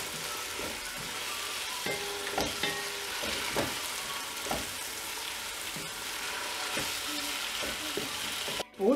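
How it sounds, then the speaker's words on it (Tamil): Chopped tomatoes sautéing in a pan while chicken biryani is cooked, giving a steady, close frying sizzle with intermittent stirring scrapes and clinks throughout, with no voices. "தக்காளியையும் நல்லா வதக்கி விடணும்"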